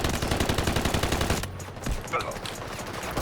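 Rapid automatic gunfire in a fast-paced modern first-person shooter video game, loud and close for a second and a half, then a few scattered shots and faint game sounds.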